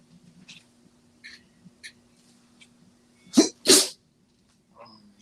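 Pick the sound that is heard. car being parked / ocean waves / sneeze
sneeze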